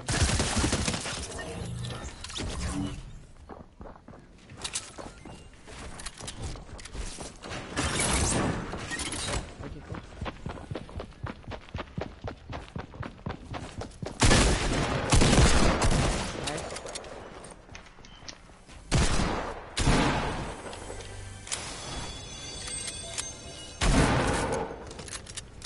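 Desert Eagle pistol fire in a shooter game, heavy shots and bursts of gunfire crackling in uneven clusters over about twenty-five seconds, with other game noises and occasional talk mixed in.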